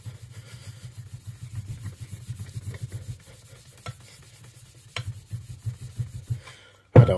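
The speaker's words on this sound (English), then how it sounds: "I've got a drill with a buffing attachment." A drill fitted with a buffing attachment polishes a metal part for a Jaguar XJS V12, giving a close, rhythmic rubbing whir in short repeated bursts with brief pauses and a sharp knock at the end.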